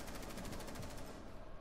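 Rapid gunfire from a video game rattles in a steady burst for under two seconds, dense and fairly quiet with no voices over it.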